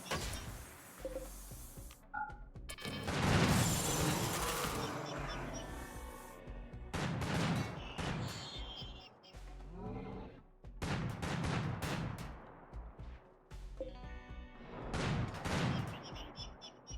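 Repeated heavy cannon and gunfire bursts in RimWorld, loud booming volleys arriving in clusters with short gaps between them, alongside assorted game effects.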